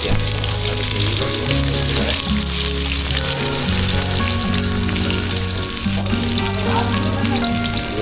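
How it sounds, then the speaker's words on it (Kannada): Chopped onions fry in hot oil with a steady, close hiss of sizzling that runs the whole time beneath a loud backing of music with sustained low tones. "ಇವಾಗ ಈರುಳ್ಳಿಯನ್ನು ಕೊಡಿ ಬಿಸಿಯಾಗಿರೋ ಎಣ್ಣೆಗೆ"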